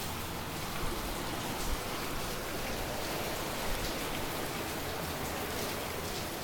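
Steady rain falling outside a hotel room in Jamaica, a dense, even hiss of drops on surfaces heard alone with no talking.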